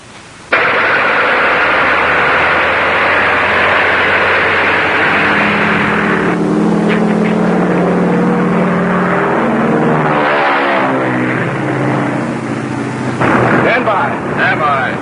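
A radio-controlled target plane's engine starts abruptly and runs with a loud, rough propeller roar, then shifts pitch as it revs and settles, steady and close for the rest of the stretch.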